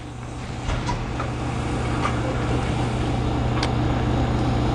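High-pressure water spray inside a PSC 122M photomask cleaner, a loud, steady rushing hiss with a low mechanical drone underneath, continuous throughout and heard alone.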